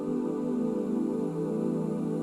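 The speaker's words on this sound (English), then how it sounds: "Nice kind of choir type thing." A gated choir pad sample for deep tech dance music production, a sustained, thick choral drone with a steady wash of voices, continuous and loud without any talk.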